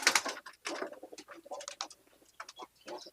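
Andhra pigeons in a cage give soft, low coos and bursts of rustling, with a steady patter of small sounds across the short stretch.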